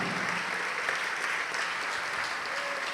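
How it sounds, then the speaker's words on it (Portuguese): Church congregation applauding during a Portuguese-language worship service, a steady dense wash of clapping holding at even strength throughout, with no pause or lull. "Vamos aplaudir mais ao nome de Jesus"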